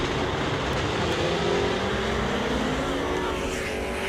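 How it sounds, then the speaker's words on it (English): A supercharged blown hot rod drag car roars loudly and steadily at a drag strip, its engine note continuous with a slight rising tone, no talk over it. "The blower car doing blower things, making all the noises."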